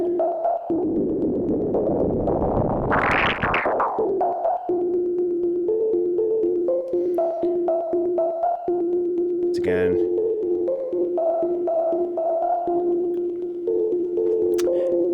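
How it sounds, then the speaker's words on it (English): A Kinotone Ribbons pedal with its speed turned way up gives a noise-modulated filter effect: a sustained, wavering pitched drone with a rushing noise sweep early on and stepping tonal shifts throughout, while a voice speaks briefly. "it turns into this like sort of very cool kind of noise modulated filter type effect"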